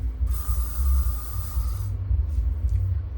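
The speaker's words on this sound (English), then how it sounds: "spray it with this Maxilla Ecological Hairspray" Maxilla hairspray hisses from an aerosol can onto a wig in one long burst lasting over a second, followed by two quick short puffs.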